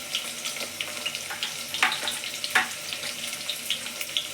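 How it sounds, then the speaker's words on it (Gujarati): Whole spices such as fenugreek seeds crackling and spluttering in hot oil while tempering a Kathiyawadi kadhi, a continuous sizzling hiss with scattered sharp pops and two louder crackles, close and without talk. "હવે થોડાક એને આપણે તતડવા દઈશું।"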